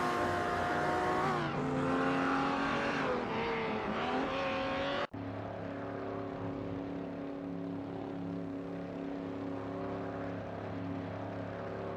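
Simulated supercars in a racing game at Weatherfield Speedway roar steadily with a high, sustained engine whine that shifts pitch, a sudden cut and then a lower continuous drone, loud and close with no voices.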